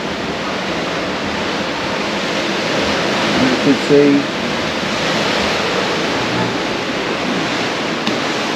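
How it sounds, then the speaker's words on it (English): Atlantic Ocean waves crashing against a transatlantic cruise ship as it moves through them, a steady broad rushing wash heard close, with a person briefly talking midway. "the sound you can hear in the background is the crashing down of the waves as the ship passes through them"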